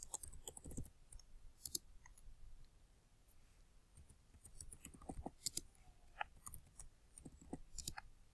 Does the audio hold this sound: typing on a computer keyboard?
yes